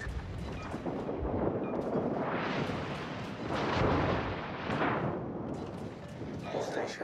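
Heavy naval gunfire from warships in a World of Warships tier 10 clan battle, rolling booming salvos that swell and fade over several seconds, loud and continuous with brief game voice callouts.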